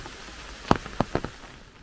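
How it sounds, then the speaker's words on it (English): Rain falls in a forest in Slovakia during a mushroom hunt, with a soft background hiss broken by a few distinct close drip or droplet taps in quick succession. "We have a rainy day"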